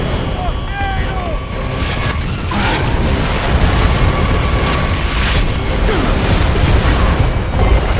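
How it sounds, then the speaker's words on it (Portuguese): Mortar blasts in the video game Gears of War: Judgment, dull booms rising out of dense battle noise and mechanical clatter, with shouting voices over the top. "Outro morteiro!"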